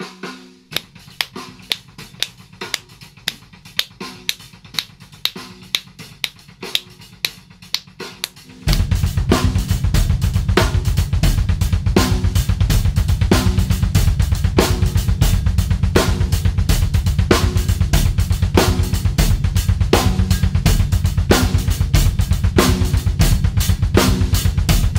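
A drum kit plays a sixteenth-based polyrhythm, starting with sparse, sharp hand claps in a steady quarter-note pulse. After about nine seconds a dense, loud, continuous groove takes over, with regular accented hits cutting through.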